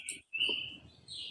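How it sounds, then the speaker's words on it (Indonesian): Neighbour's caged bird in front of a house chirping in bright, high tweets, a quick call at the start, then after a short gap a sustained warbling song running steadily over faint background rumble. "Itu burung siapa itu yang lagi berbicara-bicara itu? Burung tetangga ada depan rumah."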